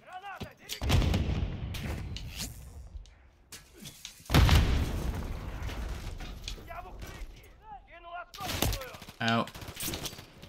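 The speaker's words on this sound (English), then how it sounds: "Frag grenade. Frag, frag, frag." Heavy booming blasts from frag grenades in the Modern Warfare 3 campaign, several deep explosions with rumbling tails among gunfire, while a player talks over the action.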